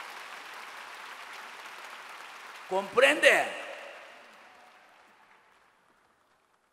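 A large church congregation claps at a revival meeting in a gymnastics arena, a broad wash of applause under a preacher's brief shouted words, then fading away into silence.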